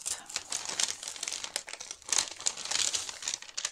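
A large kraft paper envelope is opened up close, with irregular bursts of crinkling and crumpling paper that rise and fall over several seconds.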